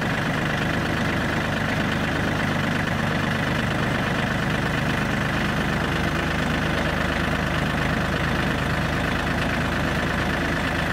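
A farm tractor engine idles steadily and continuously, a loud, even low rumble with no breaks and no talking.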